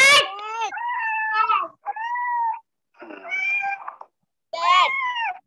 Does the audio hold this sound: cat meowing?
yes